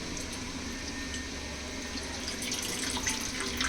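A glass of water is poured into a deep plate resting on a clay pot of village-style mutton curry, a steady close splashing trickle that grows slightly louder toward the end, with no voices.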